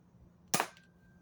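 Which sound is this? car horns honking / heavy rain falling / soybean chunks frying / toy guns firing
toy guns firing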